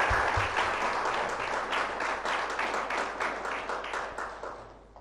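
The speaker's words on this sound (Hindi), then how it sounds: "बहुत बहुत तालियों के साथ हम अपना प्यार उन तक पहुँचाएँ।" An audience applauds at a ceremony, a dense, steady wash of many hands clapping close by that holds strong throughout and gradually fades toward the end.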